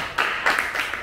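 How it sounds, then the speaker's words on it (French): A short burst of clapping from an audience at a school gathering, a few loose, uneven hand claps rather than a full ovation, fairly close and brief. "Donc, on leur fait une petite acclamation."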